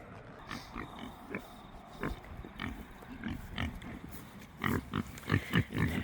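Piglets oink and grunt in short, overlapping bursts close by, busy and irregular, growing livelier and more crowded toward the end.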